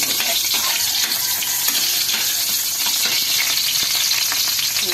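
Garlic and onions sizzle steadily in a hot pan as the base for kaldereta, a loud, continuous close frying hiss with faint stirring scrapes and no talk.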